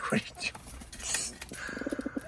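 A pet pigeon kept indoors gives a short series of soft, rhythmic coos close by toward the end, following a few faint chirps and rustles, with a person speaking briefly nearby.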